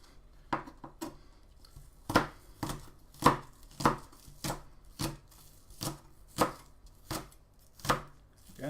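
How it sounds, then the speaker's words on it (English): A knife dices spring onion on a chopping board in a run of about a dozen crisp, evenly spaced chops, close and clear in a quiet room. "guiding with your knuckles when you're dicing something like this"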